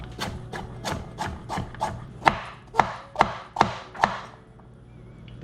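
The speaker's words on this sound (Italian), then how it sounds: "Tagliere e tagliamo." Carrots chopped with a knife on a cutting board: about a dozen crisp knock-and-slice strikes in a steady rhythm, close and clear, the last several louder and sharper, with no talking.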